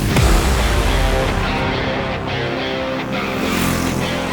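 A Triumph Scrambler 400 X motorcycle rides past, its engine a loud close roar that starts at a peak and eases slightly as it moves by, with no voices.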